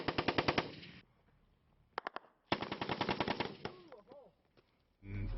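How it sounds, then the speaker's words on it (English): Machine gun fire in Helmand Province, Afghanistan, rattling in rapid loud bursts, with a short gap and then another long sustained burst, followed by quieter background noise. "they ended up starting to receive high volumes of machine gun fire"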